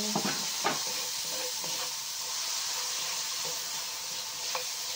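Tomatoes added to a pan and crushed while cooking sarciado, giving a steady frying sizzle with occasional scraping and stirring knocks close by.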